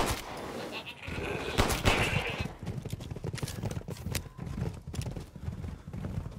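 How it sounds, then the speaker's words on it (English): Goats bleating with the clatter of hooves in the Resident Evil Village video game, several cries and scattered hoof taps at close range, fairly busy throughout with no talking. "Where did both of these goats? These are large goats."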